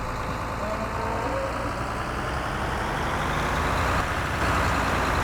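A milk truck in Farming Simulator 2013 drones with a steady engine hum close by, its pitch rising slightly as it keeps running, with no talking.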